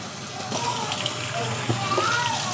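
Water runs steadily from a tap into a sink, a continuous close gush with a voice speaking over it.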